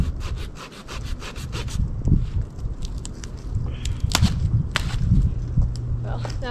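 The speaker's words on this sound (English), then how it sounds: "I actually usually bring a little handsaw, cut them down so they're not strangling the tree" A small handsaw rasps through tree branches in quick, steady back-and-forth strokes, then gives way to rustling and snapping wood nearby.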